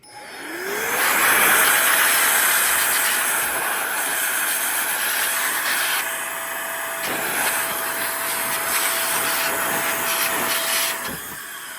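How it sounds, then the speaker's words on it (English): A Roedix electric air duster blows dust out of a PS5 console's heat sinks, giving a loud, steady high-pitched whine and rushing air that ramps up at the start and runs continuously for about eleven seconds. "We're gonna blow all that out."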